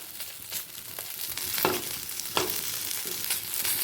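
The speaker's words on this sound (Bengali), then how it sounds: "যেটুকু তেল আছে সেই তেলেতে দিয়ে দেব হাফ চামচ পাঁচফোড়ন আর হাফ শুকনো লঙ্কা" Half a spoon of panch phoron and dried red chilli frying in leftover hot oil, sizzling and crackling steadily, with occasional spatula scrapes against the pan, close up and without talk.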